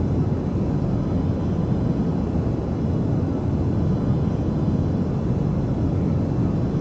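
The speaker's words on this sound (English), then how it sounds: "I've got the sounds turned up so you can hear all the different things that the aircraft does." A Just Flight PA-28R Arrow light aircraft in Microsoft Flight Simulator 2020 drones with a constant loud, low engine and propeller roar throughout, unbroken and steady.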